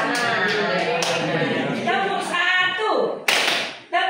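A few sharp single hand claps from a classroom counting-and-clapping exercise ring out at spaced intervals, mixed in with steady talking.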